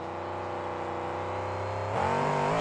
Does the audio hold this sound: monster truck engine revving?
yes